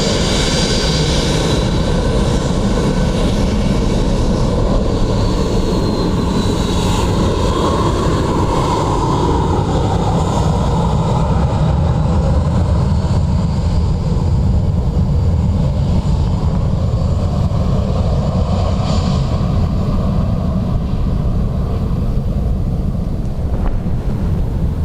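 ATR turboprop aircraft on runway 28 at Dublin Airport, a continuous loud propeller and engine drone heard from outside, with wind buffeting the microphone over the whole stretch.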